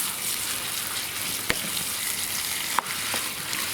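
Minced meat and zucchini sizzle steadily in a frying pan for a Bolognese, the continuous crackle broken by two sharp clicks of stirring against the pan, with no one speaking.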